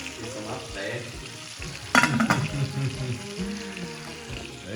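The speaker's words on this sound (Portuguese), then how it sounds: "O bacon tá fritando" Bacon frying in a pan in a home kitchen, a crackling sizzle running throughout, with a louder burst of clattering and stirring in the middle; a voice is faintly audible.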